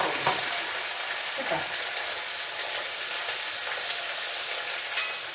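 Onions sautéing in a pan for beef olathiyathu: a loud, steady, close hiss of frying with a few faint stirring scrapes, and a brief spoken word near the start.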